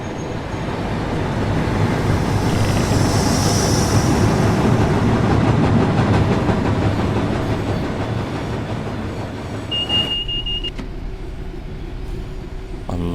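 A Class 66 diesel locomotive in Train Sim World rumbles steadily at close range with rail clatter, easing slightly near the end, where a brief high tone sounds.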